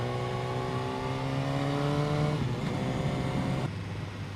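A 2015 BMW S1000R motorcycle engine and exhaust holding a steady, harmonic drone that climbs in pitch, then drops as it shifts and settles into a rougher, wind-tinged note, heard continuously from the rider's position.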